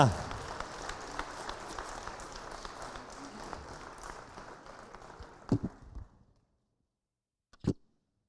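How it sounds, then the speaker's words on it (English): Audience applause at a graduation ceremony fills the first six seconds as a dense, steady wash of clapping, then cuts off; a brief thump follows after a pause of silence. "please applause Mariana Camara Martinez."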